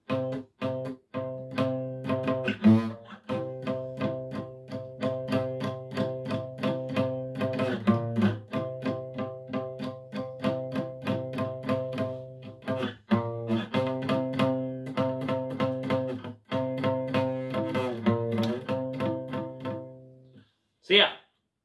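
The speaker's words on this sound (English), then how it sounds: "a low like harmony solo," Distorted electric guitar playing a low harmony solo part, a steady run of picked notes over about twenty seconds, loud and close, with brief pauses and no talking.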